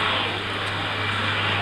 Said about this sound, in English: I wanted you to look at the plane.